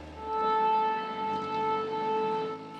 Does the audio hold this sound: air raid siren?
yes